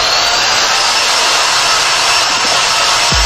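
A hair dryer blow-drying very short men's hair runs as a loud, steady broadband roar of rushing air, constant throughout with no talk.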